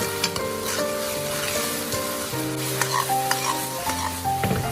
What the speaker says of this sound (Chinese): 再把刚才调好的料汁放入锅中，再快速的翻炒，将调料化开，